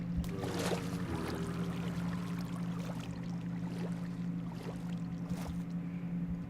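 A Minecraft boat glides across water with a steady low droning hum and a constant wash of splashing, trickling water, with no talk.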